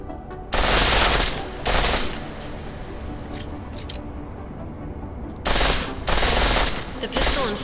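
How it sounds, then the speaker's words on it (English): A pistol set to full auto in the video game Deus Ex: Mankind Divided, heard as two loud, close bursts of rapid fire, each lasting about a second and a half, separated by a quieter gap with faint clinks. "The pistol in full auto will take down targets fast, but it'll burn through your ammo"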